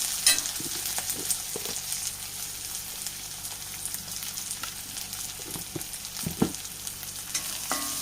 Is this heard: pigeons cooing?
no